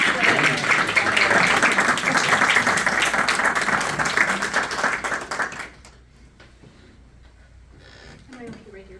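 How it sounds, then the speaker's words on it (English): An audience at a Rotary Club speech contest applauds a speaker, a dense, loud burst of clapping that fades out after about five seconds into quiet room noise. "Okay, applause at the beginning."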